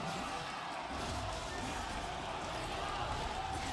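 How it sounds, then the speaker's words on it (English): Crowd at an esports arena during an MSI 2023 League of Legends match, a steady, distant wash of cheering that continues without a break, with a commentator talking over it. "you can hear from the crowd, are happy with that one"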